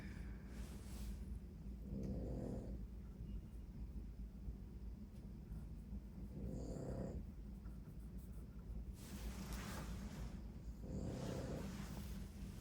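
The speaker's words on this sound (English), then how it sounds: "I know my dog is snoring a lot." A pug snores in slow, regular rhythm, each breath a raspy rumble with short snorting peaks, close by against a steady background hum.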